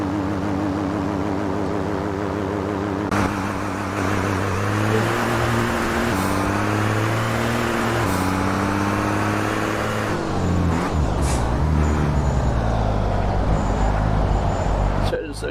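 A V8 supercar engine roars with steady low harmonics, shifting pitch as it revs, with traffic-like noise and talk over it and a louder surge near the end.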